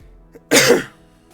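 A single sharp sneeze-like burst, loud and close, lasting under half a second, with quiet room tone before and after.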